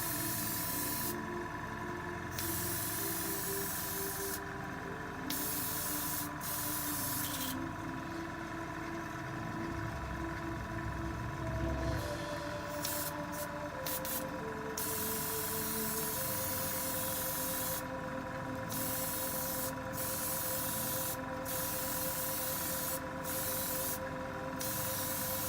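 An aerosol can sprays a coat onto seafoam model trees in bursts of steady hissing, some short and some long, close and clear over a constant low mechanical hum, with no talking.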